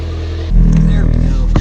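A car engine swells into a loud, close rumble after a short pause and keeps revving steadily as the car pulls away for a ride.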